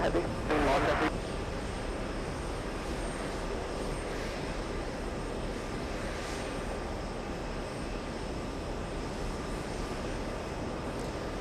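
A Boeing 777 jet airliner takes off at an airport, a steady broad engine roar holding from start to finish at moderate distance, with a brief burst of other noise near the beginning.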